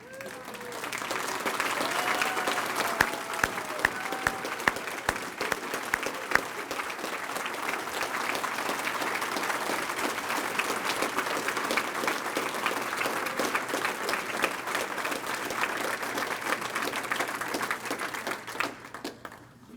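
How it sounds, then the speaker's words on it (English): A standing audience at a Rotary toast gives sustained applause for two honored community servants, a dense, even wash of many hands clapping that holds steady for nearly twenty seconds before tapering off at the end. "please stand and give my parents, Olace and Jerry, a round of applause"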